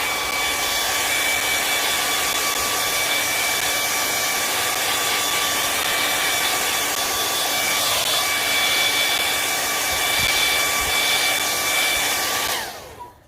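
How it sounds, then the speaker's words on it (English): A hair dryer roars steadily on high at close range, heat-setting paint on hand-painted cards, with a constant whine, then cuts off abruptly near the end. "you can heat set it with your dryer, your blow dryer"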